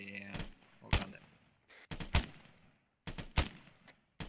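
Suppressive gunfire in the Arma military video game, several sharp, loud shots in short bursts spaced about a second apart, with someone speaking briefly at the start.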